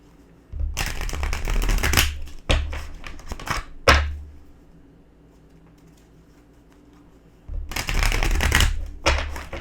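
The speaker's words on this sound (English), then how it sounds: "Two more shuffles here." Tarot cards are shuffled in three distinct bursts of rapid riffling and flicking, each lasting one to two seconds, with near-quiet pauses between them and no talk.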